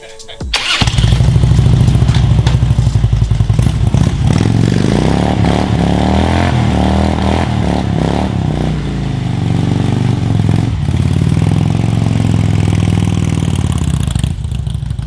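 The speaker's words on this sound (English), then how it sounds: "What would a new bike be without a nice welcome to the family burnout?" A bagger motorcycle does a burnout on an old, dry-rotted tire in a driveway, its engine held at steady high revs for about fourteen seconds, loud and close.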